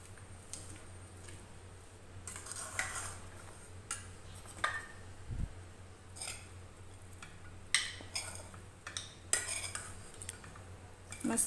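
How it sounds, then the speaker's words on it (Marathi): Sushila, a puffed-rice dish, is served onto a plate with utensils: scattered metallic clinks and taps of a spoon against cookware and plate, with quiet soft shuffling between them and no speech. "आता मी याला सर्व करून घेते एका प्लेटमध्ये"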